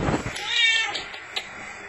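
A house cat gives a short, close meow that rises and falls, followed by a fainter brief chirp.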